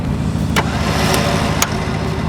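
A crane winch motor starts up and runs steadily at a medium pitch, an engine-like idle with a few sharp clicks or clanks on top, close and fairly loud.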